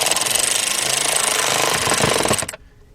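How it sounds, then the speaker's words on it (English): A cordless ratchet tightens headlight bolts on a 2011 BMW 740Li, a loud continuous buzzing rattle running close up for about two and a half seconds, then cutting off abruptly into near silence. "I'm using a cordless ratchet"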